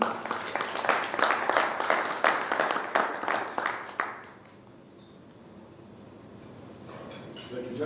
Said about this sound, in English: And a round of applause for our Chair, please.